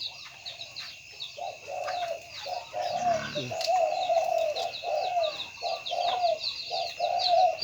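Trained decoy bird calling, a repeated series of close, clear coos in a steady rhythm, with faint chirps and background hiss around them.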